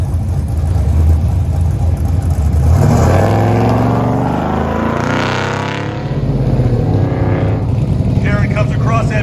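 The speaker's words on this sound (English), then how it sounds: "Karen Leesinger on the line, the Summit Racing Corvette" A 1985 Summit Racing Corvette revs hard through an autocross run, its loud engine rising and falling with shifts, while an announcer talks over it on a public address.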